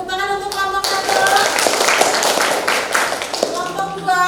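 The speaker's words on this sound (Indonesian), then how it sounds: "beri tepuk tangan untuk kelompok 1" Clapping from a small class group applauding the first team's science presentation on acid and base indicators, a brief burst of close hand claps between stretches of talk, with voices heard before and after.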